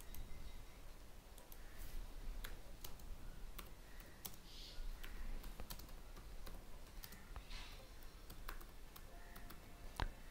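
Keys on a computer keyboard tap in quick, irregular bursts, with sharp, close clicks spaced unevenly and a faint hum in the background, including a distinct press of the enter key.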